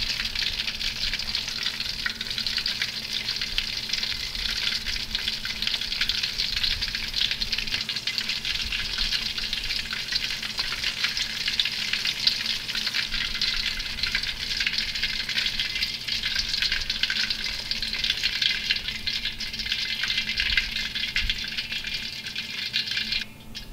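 Green chiles and garlic fry in hot oil for a salsa verde, giving a steady, dense sizzle that stays loud and even throughout, with no voices.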